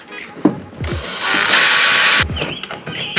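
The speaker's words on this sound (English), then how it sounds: "Now we're going to countersink them out a little bit so that the bolts are flush" A drill runs in one close, high-pitched burst of a little over a second, countersinking bolt holes in a Perception kayak, with a few light knocks and handling sounds before and after.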